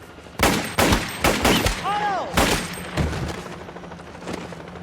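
A burst of gunfire in a 2004 action film shootout: several loud, sharp shots close together over a few seconds, with a brief shout between them.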